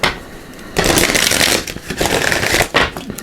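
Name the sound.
shuffling tarot cards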